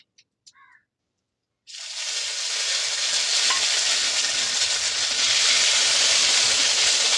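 Fresh ginger paste hits hot oil with cumin seeds and bay leaf for a snakehead fish and taro curry, bursting into a loud, steady sizzle after a few faint clicks and a short silence.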